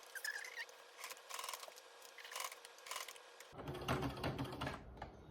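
A home sewing machine back-stitches through fabric for a pirate costume, with quiet mechanical clicking and tapping in short bursts, then a louder, denser rattling run near the end.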